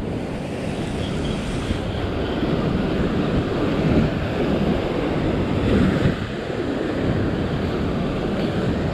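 Ocean surf breaking on a rocky shore during sea fishing, a loud continuous roar of waves with wind rushing across the microphone, swelling slightly in places, with no voices.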